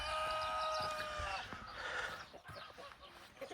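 A blue village rooster crows once fairly close, the call trailing off into farmyard background noise with other poultry around.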